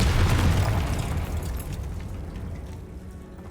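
A Confringo fire spell explodes in the video game Hogwarts Legacy: one loud, deep boom that bursts at once, then rumbles and slowly fades over a few seconds, with no talk.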